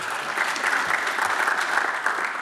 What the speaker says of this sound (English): There we go, we'll get an applause for that.